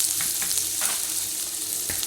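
Okra (lady's finger) already sautéed in oil is stirred into a spiced masala in a pan, giving a steady close sizzle with several distinct scraping stirs of the spoon and no talk.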